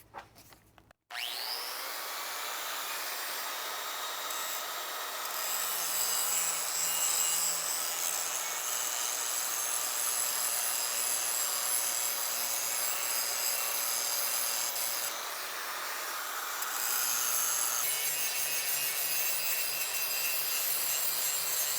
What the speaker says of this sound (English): The best tool here is definitely going to be a grinder.